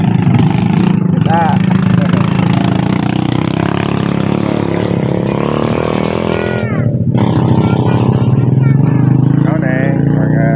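Motorcycles pass along a village road, engines droning and revving near and loud throughout, with a brief dip mid-clip while people talk over the traffic.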